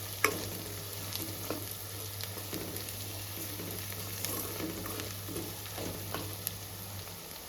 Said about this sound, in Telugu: కరివేపాకు వేసుకుందామండి, ఒక 3 రెమ్మలు. మీడియం ఫ్లేమ్లో పెట్టుకొని బాగా ఫ్రై చేసుకోవాలండి.